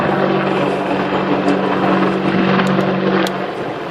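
An Apache AH-64D attack helicopter in a flying display at the ILA 2016 airshow makes a loud, close, steady rotor and turbine roar that thrums continuously, easing slightly at the end. No voices.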